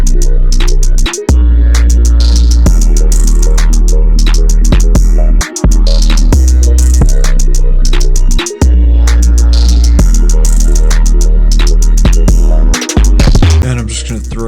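Heavy, loud 808 bass in a hip-hop beat following a 6-5-1 progression, booming long sustained notes with brief dropouts between phrases under bright melodic layers and crisp hats.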